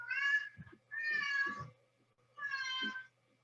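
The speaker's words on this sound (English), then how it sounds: "Sorry about the meowing" A house cat meows three times, each call a clear drawn-out meow separated by short pauses, close and loud in an otherwise quiet indoor room.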